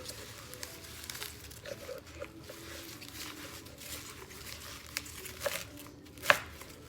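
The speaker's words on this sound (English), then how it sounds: "I'm gonna chop this up." Vegetables are chopped for split pea soup, with soft, close knife taps on a board, a crinkle or two, and a sharper click near the end.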